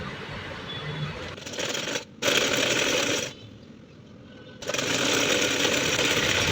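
A sewing machine stitches the hem of a baby frock in close, rapid whirring bursts, with a brief gap and a quieter stretch before the stitching runs again at full speed.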